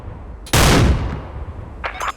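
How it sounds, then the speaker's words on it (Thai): A single loud Barrett sniper rifle shot in the Special Force 2 shooter game, a sharp blast with a decaying tail, followed by a brief mechanical clack. "ยิงเป็น เซมิออโต้ปรตีไปเลยเนี่ย"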